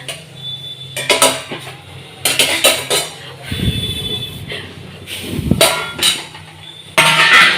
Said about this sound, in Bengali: এই ঢাকনা তুলে নিলাম